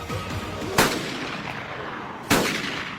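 Two sharp gunshots ring out in a Korean drama film, each a loud sudden crack followed by a short echoing decay, spaced about a second and a half apart over a low background.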